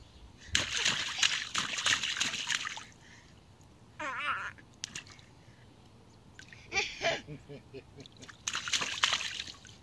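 A baby splashing in water, bursts of sloshing and splattering in several separate spells with quieter gaps, close by, with voices talking in between.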